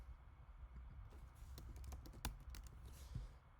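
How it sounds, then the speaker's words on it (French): Fingers type on a computer keyboard in quick, irregular bursts of light clicks, close and fairly quiet, with brief pauses between keystrokes and no voice. "Je vais la taper dans Google"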